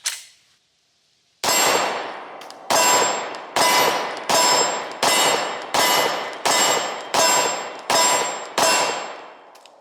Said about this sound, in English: All right, we'll shoot the 10mm first.